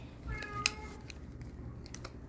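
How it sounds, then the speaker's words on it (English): House cats meowing at home, short chirpy meows early on, then faint clicks and a sharp tick in a quiet indoor room. "Our cats are very talkative, aren't they?"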